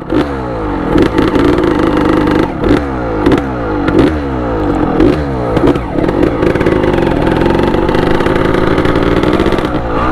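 A modified two-stroke Honda Titan motorcycle, with its original cylinder and a 34mm carburetor, runs loudly up close, its engine revving and rasping continuously with a few brief dips in throttle.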